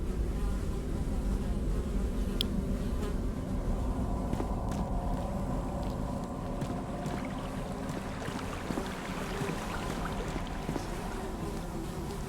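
Flies buzzing around a foul-smelling cave mouth, a steady drone with darting passes layered over a low rumbling background, no voices.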